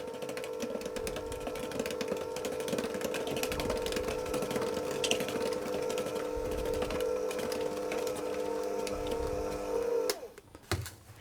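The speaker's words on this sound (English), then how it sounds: "with my mixer on a low speed, I'm simply going to mix those until they're combined" An electric hand mixer runs steadily on low speed, blending ginger kisses batter in a bowl, a constant near whirring hum that holds for about ten seconds before cutting off abruptly near the end.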